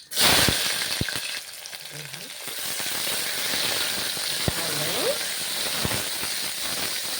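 Onions dropped into hot oil with mustard seeds and curry leaves, starting with a loud sizzling burst and then settling into a steady close frying hiss, with a few faint clicks of a spoon.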